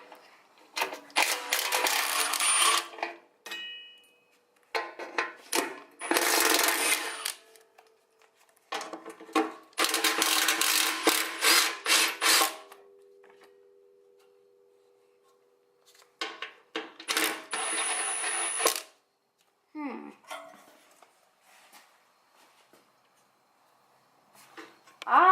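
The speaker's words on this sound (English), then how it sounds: "12mm socket with my Milwaukee Fuel 1-key impact driver, and let's do it." A Milwaukee Fuel one-key impact driver with a 12mm socket works on a Kubota B7100 tractor during a brake job, firing in several loud rattling bursts of a few seconds each, separated by pauses.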